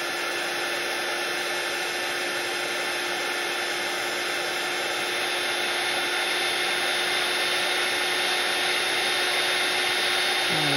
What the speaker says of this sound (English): now I'm bringing in my heat gun